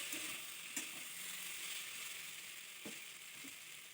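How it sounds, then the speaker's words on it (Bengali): Spices fry in oil in a pan for a fish curry and give a steady close sizzle throughout, with a few faint scrapes from stirring. "নাড়াচাড়া করে নিতেছি। ভালো মতো মশলা মিশিয়ে নিতেছি।"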